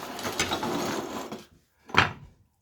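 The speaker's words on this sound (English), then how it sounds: "Cut the head right off." A screw's head is cut off while making a stained glass mobile, a gritty grinding rasp for about a second and a half, then silence and one short sharp scrape.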